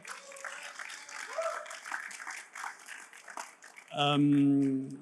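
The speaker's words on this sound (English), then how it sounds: "Give us a round of applause here" Audience applause at a panel talk on a startup ecosystem, a light scattered clapping under ongoing speech before a voice rises clearly near the end.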